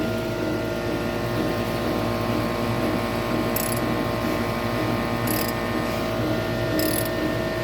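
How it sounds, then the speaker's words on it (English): An air conditioner runs steadily in a workshop where pistons are being fitted into a Pontiac 389 engine, a constant loud broadband hum with faint mechanical whine and a few brief high ticks, with no talking. "although with that damn air conditioner going"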